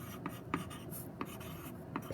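Pen writing by hand on paper, soft scratchy strokes with small ticking taps at intervals, close and quiet with no voices.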